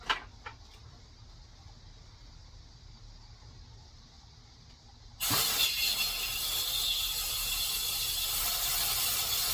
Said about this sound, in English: Now I'm going to try to switch the hoses around, blow the air through this hose